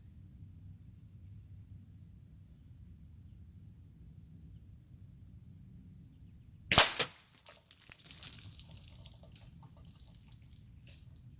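A Gamo Swarm Magnum .22 air rifle fires once at a 40-yard target, a single sharp crack breaking near silence, followed by faint rustling and a brief muffled swell.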